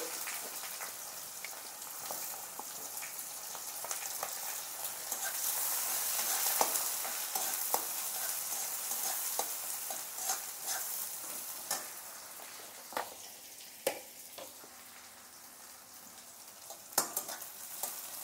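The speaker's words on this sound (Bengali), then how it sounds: "পেঁয়াজটা একটু ভেজে নেব ভালো করে।" Chopped onions fry in a pan with bay leaf, dried red chilli and whole cumin, giving a steady close sizzle and hiss broken by occasional sharp crackles and spatula scrapes, with no talking.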